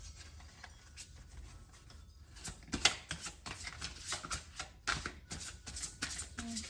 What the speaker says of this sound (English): A few more shuffles, Leo.